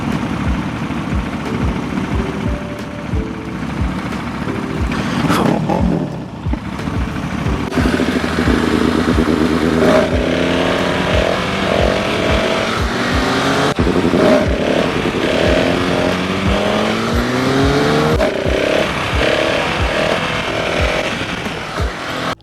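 Motorcycle engine revving hard and sustained during a wheelie, loud and close, with rising and falling throttle sweeps over a steady rumble for about twenty seconds.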